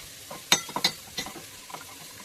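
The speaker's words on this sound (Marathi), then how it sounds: "तर मी याच्यामध्ये थोडा आता लसूण ॲड करते" Crushed garlic and chili flakes fry in melted butter, with a quiet, faint sizzle broken by a handful of sharp crackles and pops that spread out over a couple of seconds.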